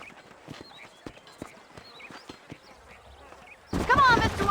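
Horses' hooves clip-clop in a steady rhythm on the ground in the Red Dead Redemption video game, crisp and fairly close, before a voice starts talking near the end.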